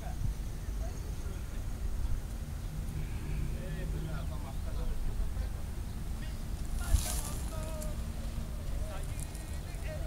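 Steady low engine rumble of a motorboat with two outboard motors on open water, with wind noise and a few voices speaking over it.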